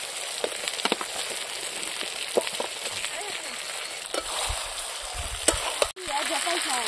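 Fried potatoes and spiced mutton sizzle and crackle in a pan with scraping stirs, a steady close frying hiss with occasional louder clatters, under a speaking voice.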